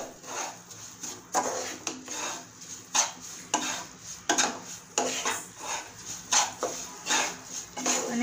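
A spoon scrapes rhythmically through a roasted sesame and peanut mixture in a pan, with repeated close stirring strokes at a steady pace and faint frying underneath.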